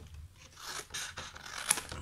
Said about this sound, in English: so you're going to cut up the score line,